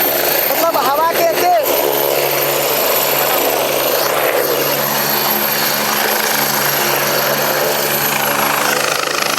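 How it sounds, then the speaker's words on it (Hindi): A helicopter carrying Bihar's deputy chief minister lands at a stadium in Benipur, its loud, steady rotor roar and wind noise filling the whole stretch while people talk over it. "हुनकर हेलीकॉप்टर उतर गए"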